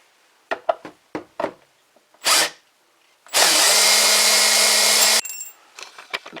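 A power drill backing screws out of stage scenery, with a short whir followed by a long steady run, surrounded by scattered clicks and knocks of handling.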